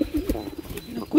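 Pigeons in Kyiv coo repeatedly up close while taking food from a person's hand, soft throaty calls pulsing in short bursts with no talk over them.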